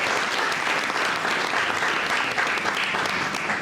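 A church congregation applauds together, a dense, steady wash of many hands clapping that stays loud and even throughout with no pauses.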